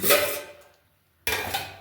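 Metal kitchen utensils and pots are picked up and set down in a home kitchen while tea is being made, giving two short clattering bursts separated by a brief silence, close and fairly quiet.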